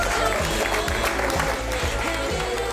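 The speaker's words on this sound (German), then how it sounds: "Ich glaube, es ist ein fetter Applaus" Short burst of applause in a restaurant after the team's inspection score is announced, steady clapping with voices talking underneath.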